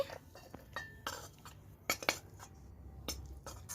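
Cooked vegetables for a sandwich filling are tipped out of a pan, with a spatula scraping and clinking against the metal and a few sharp knocks, quiet and close, with no talking.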